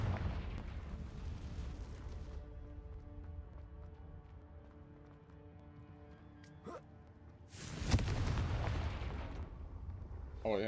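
A Confringo blasting curse goes off in the Hogwarts Legacy video game, one sudden loud burst of explosion that bursts out after a quieter stretch of music-like drone and fades into rumbling noise.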